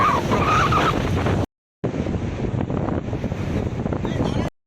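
Incoming tide washing in at the Digha estuary, a continuous broadband rush of surf and wind buffeting the microphone, cut by a brief silent gap; no talk.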